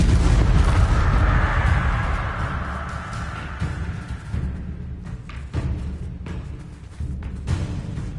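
The Confringo fire spell explodes in Hogwarts Legacy, a loud rumbling blast that decays over several seconds into scattered crackles and lighter impacts.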